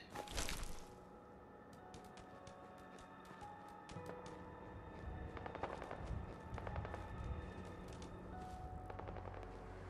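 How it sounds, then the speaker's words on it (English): A video game gunfight crackles at a distance, with scattered rapid gunshot bursts and popping volleys over a steady ambient hum, after a louder blast at the start. "Hearing a gunfight."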